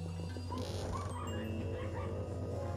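A dog in Luigi's Mansion 2 gives short, quick yips and barks over steady tonal game music, fairly loud and close.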